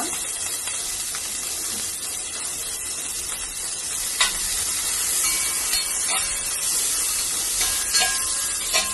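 Onions frying in a small amount of oil or ghee in a pan, a steady close hiss with a few brief stirring clicks and no talk.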